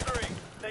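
Rapid gunfire bursts from a Call of Duty Modern Warfare 2 campaign firefight, dense and close at the start, thinning, then rising again briefly at the end.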